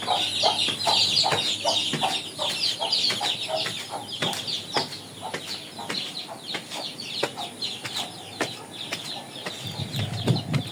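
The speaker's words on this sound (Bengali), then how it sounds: "দেশি মুরগি দেশি মুরগির বাচ্চা" Native chickens cluck steadily in short repeated calls, with chicks peeping high and busy throughout, fairly close with a faint outdoor backdrop on a rooftop garden in light rain.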